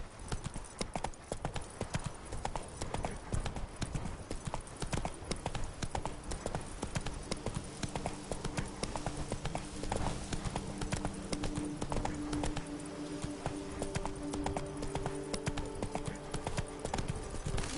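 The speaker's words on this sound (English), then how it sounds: "Whoa there, Roach" Hooves clip-clop steadily and rapidly from a galloping horse in The Witcher video game, a dense, continuous rhythm throughout, with faint background game tones in the later part.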